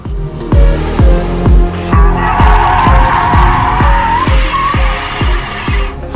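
A TOGG car on 22-inch wheels drifts with its tires burning, squealing loud and close in repeated pulsing bursts while the engine roars underneath.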